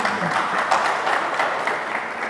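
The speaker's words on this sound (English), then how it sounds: "Let's give another round of applause." An audience at a sales talk by Dr. Anand Menon gives a round of applause, dense steady clapping from a seated crowd, fairly loud and continuous throughout.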